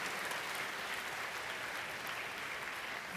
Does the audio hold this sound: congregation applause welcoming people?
yes